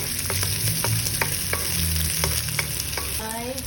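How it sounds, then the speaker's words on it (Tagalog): Garlic, onion and spring onion sautéing in a hot pan, a steady loud sizzle with repeated sharp taps and scrapes of a utensil stirring through it, with no voices. "Saute the garlic. And then the onion and the spring onion."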